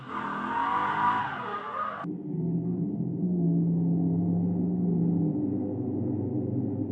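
S62-engined E34 BMW M5 drift car at Anglesey: a loud, sustained engine roar with tyre noise, cutting abruptly to a lower, steady droning note after two seconds, with no talking.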